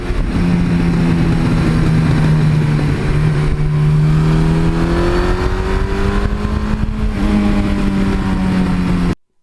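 A Suzuki GS1100E motorcycle engine held at wide-open throttle, loud and close, with a steady rising howl that climbs in pitch, dips once at a gear change and keeps building, then stops abruptly.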